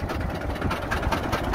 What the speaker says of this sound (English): here's the tractor